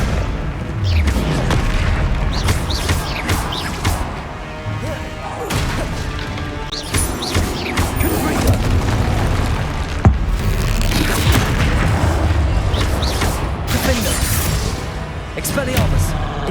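Confringo fire spells burst repeatedly in a Hogwarts Legacy battle, loud booming explosions and crashes layered over dense combat effects and music, with voices shouting spell names throughout.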